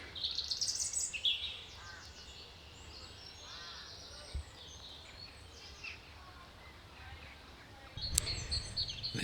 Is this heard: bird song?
yes